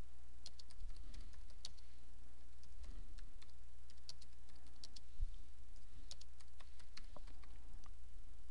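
A computer keyboard is typed on while notes are added to a drawing, giving light, irregular clicks in short bursts, close but soft over a low steady hum.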